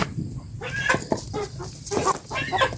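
Chickens cluck in short, scattered calls close by around a rural home during cleaning chores, with steady background noise and no clear talk.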